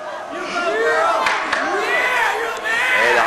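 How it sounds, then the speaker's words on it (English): A big crowd at a middle school basketball game in a gym cheers and yells loudly and continuously, its voices swelling in waves. "it looks like we got a big crowd tonight"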